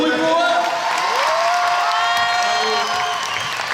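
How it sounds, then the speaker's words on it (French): An audience in a packed cinema at a live premiere at Le Grand Rex in Paris, cheering, whooping and applauding loudly without pause, a dense crowd roar with shouted voices rising above it. "Faites du bruit pour eux."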